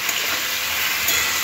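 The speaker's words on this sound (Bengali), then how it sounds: "সবজিটা ভাজার জন্য দিলাম" Vegetables for chowmein frying in a pan, a steady broadband sizzle and hiss at constant loudness throughout, with no talking.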